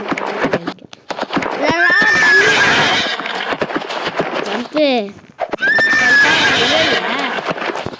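Horses in a Roblox prison obby game let out two loud, rising whinnies amid rapid clip-clop hoofbeats, with someone talking excitedly over the game sounds.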